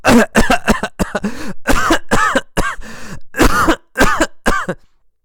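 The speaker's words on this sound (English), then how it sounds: "He coughed and coughed and coughed." A man coughs and clears his throat repeatedly in close, loud bursts, about a dozen harsh hacks in uneven clusters with short pauses, then stops.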